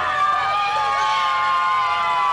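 A wrestling crowd at a 2008 Marshfield Fair show reacts to a female wrestler with a loud, sustained roar of voices, including drawn-out booing or jeering tones, steady throughout.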